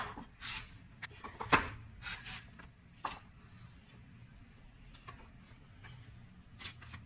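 A hand scraper drags in short, irregular strokes against a surface, each rasp brief and fairly close, separated by quiet gaps and softer scuffs.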